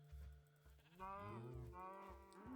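A cow in the Minecraft video game moos in two low, drawn-out calls that rise and fall, heard clearly after a brief stretch of low rumble.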